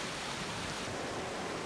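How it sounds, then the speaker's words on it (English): Flash flood and debris flow rushing down Last Chance Creek in southern Utah after dark, a steady, dense roar of churning water with no break or pause. "intense intercept of significant flash flood and debris flow after dark down Last Chance Creek in southern Utah"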